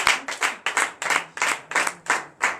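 A church congregation claps in unison during acclamation at a night deliverance service, about ten sharp, evenly spaced group claps in a steady rhythm, close and fairly loud.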